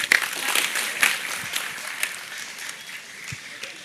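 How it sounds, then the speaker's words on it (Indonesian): Scattered audience applause for Pak Busro at an evening gathering, individual claps standing out as sharp snaps over a thinner patter that gradually fades. "Oke, tepuk tangan Pak Busro semuanya."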